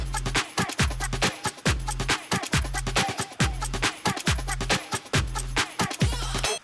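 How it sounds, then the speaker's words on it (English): Break beat from a song, made for a Jersey club and trap production, plays as a punchy looped drum pattern of heavy booming kicks and crisp snares in a steady bouncing rhythm, loud and alone. "Also I'm having the break beat I was using in my song"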